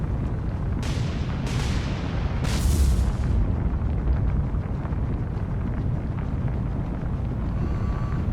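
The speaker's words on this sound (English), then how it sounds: "So Fangent being struck by torpedo, I would say she should be going down shortly." A torpedo hits a ship in the naval game War on the Sea, giving a few sharp blasts and a heavy explosion that spreads into a long, loud rumble over constant low sea and engine roar, with no talking.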